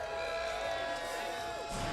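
Crowd at the Versus Fighting tournament during Granblue Fantasy Versus: Rising top 8 finals, a loud, continuous wash of cheering and shouting from a packed audience, swelling slightly near the end.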